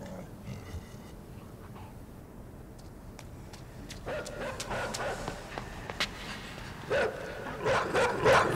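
Dogs in the game INSIDE: a few faint yips early, then repeated barks and growling bursts growing louder and closer over a low ambient hum.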